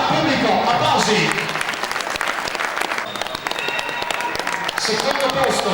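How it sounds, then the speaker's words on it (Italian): Dense, loud crowd applause at a cyclocross award ceremony in Vittorio Veneto, steady clapping from the spectators filling the whole span, with voices murmuring underneath. "Forza, pubblico, applausi!"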